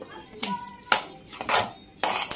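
Spoon scraping and clinking against a bowl while cardamom and black pepper powder are mixed into semolina, four or five distinct knocks at an uneven pace, close and fairly quiet.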